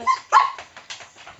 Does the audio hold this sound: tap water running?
no